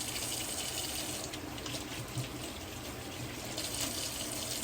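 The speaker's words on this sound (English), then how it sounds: "I'm gonna wash my hands real quick." Tap water runs steadily into a kitchen sink during hand washing before cooking, a soft continuous hiss and splash with no talking.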